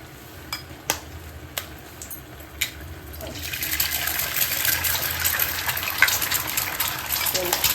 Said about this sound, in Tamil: கொஞ்சம் எண்ணெய் ஊற்றிட்டு இந்த முட்டையை உடைச்சி அதில் போட்டுக்கலாம்